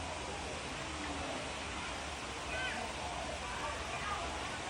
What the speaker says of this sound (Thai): เราไปดูน้ำตกกันจากมุมสูง